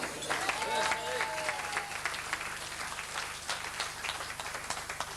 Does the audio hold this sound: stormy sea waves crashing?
no